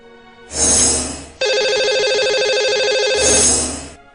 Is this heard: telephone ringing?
yes